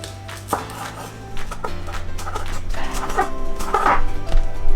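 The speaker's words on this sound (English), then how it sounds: "we're going to chop up our green onions in little circles" A knife chops green onions into small rings on a board, sharp separate taps in an uneven rhythm, close and clear, with a low steady hum of cooking beneath. There is no talking.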